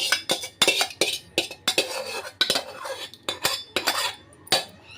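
A spoon scoops thick curd into a large metal pot for lassi, with repeated sharp clinks and scrapes of metal on metal in an uneven rhythm, close and clear with no talking.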